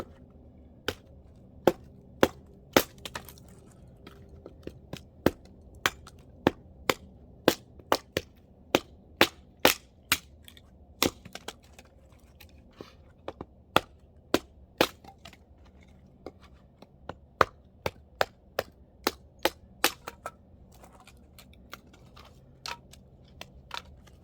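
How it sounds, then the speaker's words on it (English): A small axe splits firewood into kindling for a homestead stove, with dozens of sharp, close chopping strikes at an uneven but steady pace over a quiet background. "I chop up even smaller pieces for the kindling with my smaller axe"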